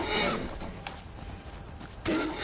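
A horse in the Skyrim video game on PlayStation 4 whinnies in brief bursts near the start and end, with hooves clopping in between, sounding close and moderately loud against game ambience.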